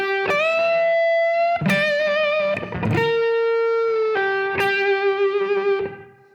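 Distorted electric guitar plays a short slow blues rock lick: a handful of picked, sustained notes with bends and vibrato, loud and close, the last note fading out, no voices.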